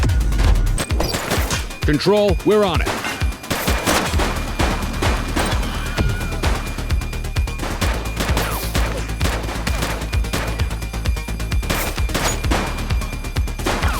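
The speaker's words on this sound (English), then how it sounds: "Gunshot! Evasive maneuvers." Gunfire in The Precinct, a police video game, comes as a dense run of rapid shots and crashes over a steady engine-like drone, with a short speech line and a brief wavering siren near the start.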